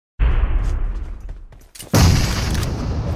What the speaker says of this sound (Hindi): इसमें एक ग्रेनेड पलट देता है